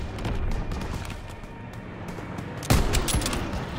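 Gunfire from the World War II shooter Call of Duty WWII, in a church fortress mission: steady rolling bursts of rifle and machine-gun fire throughout, with a sharper, louder volley landing near the end.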